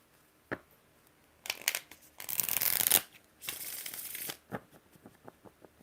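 Tarot cards shuffled in several riffle-like bursts, fairly close and crisp, with brief taps and gaps between the bursts.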